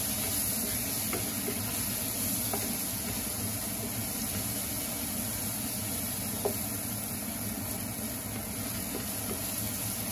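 Bitter gourd (ampalaya) seasoned only with salt sizzles steadily in a frying pan as it is stirred, a constant close hiss with no talking over it.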